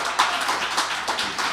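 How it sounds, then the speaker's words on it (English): Studio audience applause for performers Darrell Wallace and Kevin Mahoney at a live radio show: a steady patter of many hands clapping at moderate volume, swelling in brief bursts throughout, with no voices. "we want to get one more round of applause for Darrell Wallace and Kevin Mahoney"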